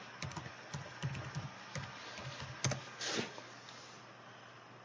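Keys clatter on a computer keyboard as a password is entered on a Windows 7 virtual machine, a quick run of close, light taps in uneven bursts, followed by a slightly louder press or two.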